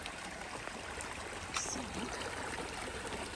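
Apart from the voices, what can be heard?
stream water at a rock-hop crossing on the Appalachian Trail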